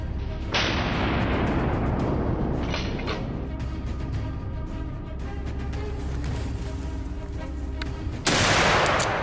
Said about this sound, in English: I aimed and fired in a split second. The shot hit home.